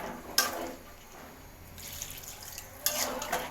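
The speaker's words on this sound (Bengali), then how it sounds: "এখন ঝোলের পানি দিয়ে নিচ্ছি" Water poured into a pot of braised meat curry, two short splashing pours with quiet gurgling between them, faint and close.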